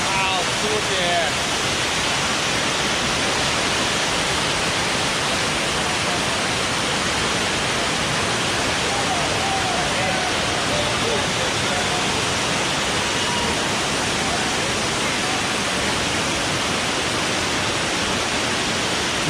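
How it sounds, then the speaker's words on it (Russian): A waterfall in Jamaica roars as a steady, loud, broadband rush of falling water, unbroken throughout, with a voice faintly audible under it. "Вот такие водопады, ребят. Просто замечательные водопады, классные."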